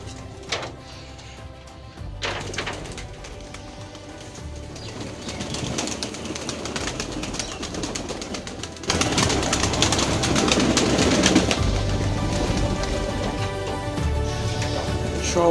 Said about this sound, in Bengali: এখন কবুতরকে লোকে গম দিই,